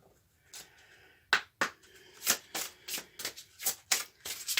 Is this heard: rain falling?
no